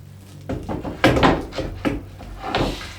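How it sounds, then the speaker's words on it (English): Several wooden knocks and a sliding clunk as an RTA kitchen cabinet drawer is set onto its soft-close slides and pushed back, close and moderately loud. "Putting the drawer in."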